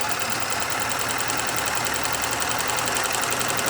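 A sewing machine runs steadily while stitching the seam of a fabric surgical mask over elastic, a continuous close mechanical whir with a fast regular knocking rhythm and no voices.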